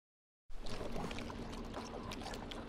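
Spicy juice poured onto maki sushi in the VirtuaVerse video game: a short, close, steady liquid pour that begins abruptly after silence and continues without pause.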